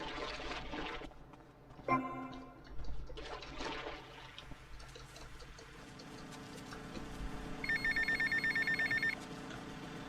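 A payphone ringing in GTA Vice City, an electronic trilling ring that comes in near the end over game music and ambient noise, with no one speaking.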